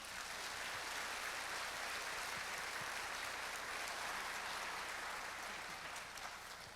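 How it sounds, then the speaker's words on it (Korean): Audience applause fills a jazz concert hall in Changwon after a vocalist is introduced, a steady, dense wash of many hands clapping at moderate loudness that carries on unbroken, with no voices over it. "여러분 박수 부탁드립니다."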